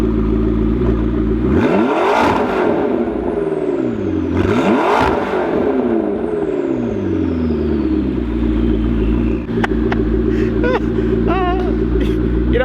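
A loud McLaren with a modified exhaust revs hard twice, each blip rising and falling with audible turbo spool whistle, then settles into a rumbling idle with hissing and clattering afterward.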